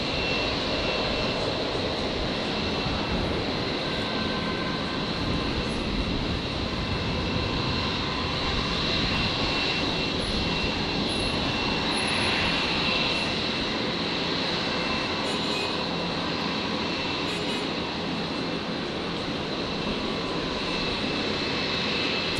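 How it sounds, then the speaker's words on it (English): A Qantas Boeing 787 Dreamliner roars steadily as it departs Brisbane airport, a loud, continuous jet rumble that holds nearly constant for the whole span with no voices over it. "Qantas 1332, the Dreamliner heading down to Antarctica for the scenic flight back into Brisbane tomorrow morning"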